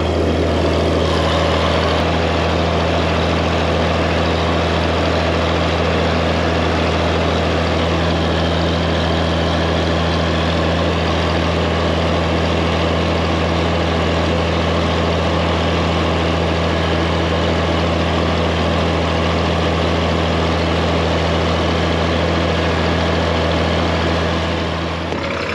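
A tractor engine idles steadily and loudly on a farm during spring seeding, a constant low droning rumble that runs unbroken and without speech.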